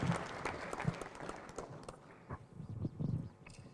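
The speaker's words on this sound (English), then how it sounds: "We can give a clap to the PS." A conference audience at an information security management event claps after an official opening; a soft, fairly distant patter of applause fades over a few seconds, with no voices.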